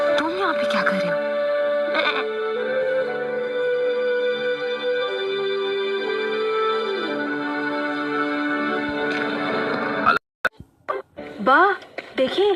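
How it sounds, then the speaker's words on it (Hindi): A markhor, a wild goat, gives long drawn-out bleats that carry over a steady background, followed near the end by a burst of short bleats and abrupt noises. "ये बकरी नहीं है, मारखोर है।"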